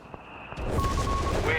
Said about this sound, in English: mortar fire there